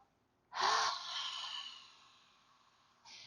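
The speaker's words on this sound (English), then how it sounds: "Big exhale." A single deep exhale during yoga breathing in a sun salutation session: a sharp intake, then a long, close breathy release that fades over a couple of seconds, with a brief breath at the end.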